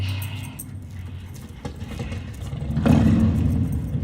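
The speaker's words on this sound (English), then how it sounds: "That sounds like a Harley." A Harley-Davidson motorcycle passes on a street, its low engine growl rising from a quiet background into a louder, rumbling swell over the last second or so.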